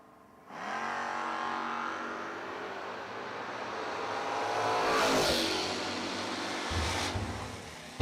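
Drag race cars roar off the start line at a footbrake challenge event, engines rising from a sudden loud launch into a sustained revving drone that swells and shifts pitch as they pull away, with no voices.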